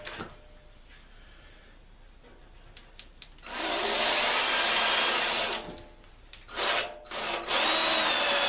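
A 1/8 inch drill bit, dull, bores holes through the metal of a Yanmar SA424 tractor, the power drill whining loud and steady for a long stretch, then stopping and restarting in shorter bursts.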